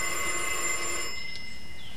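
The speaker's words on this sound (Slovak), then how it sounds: "A navyše 100-krát denne u nás zvoní telefón." An old telephone bell rings steadily and fairly loud for a moment, then the ringing cuts off and a faint tail remains, with no voices.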